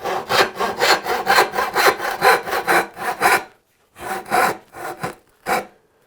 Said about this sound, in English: So I like to grab a sash saw or a crosscut saw